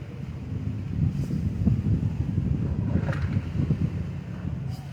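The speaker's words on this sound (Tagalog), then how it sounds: "Lakas ang hangin ah." Steady, strong wind roaring and buffeting, low rumbling gusts dominating throughout with no speech.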